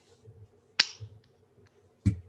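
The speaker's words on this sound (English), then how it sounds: "Slow golf clap on that one." Slow golf clap in a podcast setting, two sharp isolated claps spaced over a second apart, crisp and close, over a quiet low background.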